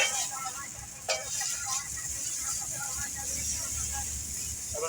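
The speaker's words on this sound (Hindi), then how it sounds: "हम इस चिकन को भून लेंगे थोड़ा सा।" Chicken browning lightly in a pan on a Hindi-language home stove, a steady low sizzle running throughout with faint clinks and stirring noises, under a fairly quiet kitchen background.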